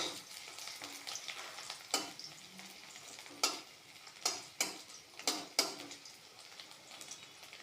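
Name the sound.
garlic frying in oil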